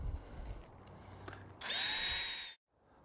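A power drill drives Phillips screws while a Bestop Trektop NX is installed on a 1997-2006 Jeep Wrangler, giving a short, close whirring burst after some handling noise, then cutting off sharply.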